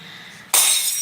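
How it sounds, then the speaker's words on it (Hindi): A glass drinking tumbler shatters on a floor at home, one sudden loud crash of breaking glass cutting through quiet room tone, with bright tinkling fragments ringing on after the impact. "शीशा का गिलास फोड़ दिया"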